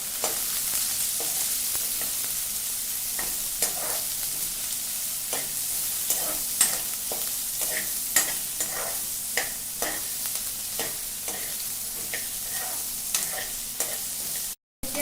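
A bay leaf sizzles in hot oil for a Kabuli chana ghugni, a steady frying hiss with repeated scraping taps of a stirring spoon against the pan, close and continuous.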